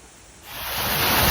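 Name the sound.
waterfall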